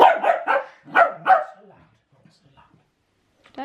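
A playful dog barks in a quick burst of sharp, close yips and barks at the start, then falls mostly quiet, with a faint sound returning at the end.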